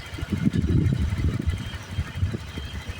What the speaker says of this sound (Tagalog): Tahimik ang makina, mga idol.